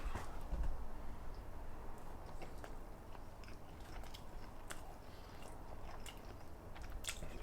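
Close, quiet chewing of raw tuna topped with imitation wasabi, soft wet crunches and squishy bites repeating irregularly throughout, with no talk.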